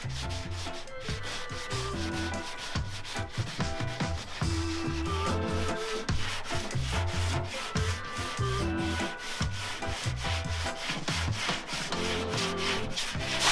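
Plastic body filler on a wrecked 1,000 HP LS-powered car is sanded by hand in rapid, rhythmic back-and-forth strokes, close and steady throughout with no talking.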